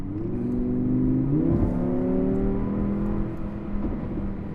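An Audi R8 V10 accelerates hard, its engine note rising steadily, dipping briefly at a gear change, then climbing again. The engine sounds loud and close, heard from inside the moving car.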